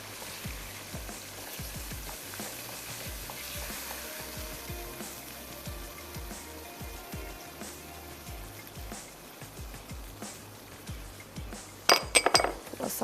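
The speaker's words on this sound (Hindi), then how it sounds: "थोड़ा सा मिक्स कर लेते हैं" Tikka biryani masala being stirred in a pot gives soft repeated scraping and clinking strokes over a low simmering hiss, ending in a few louder metallic clanks.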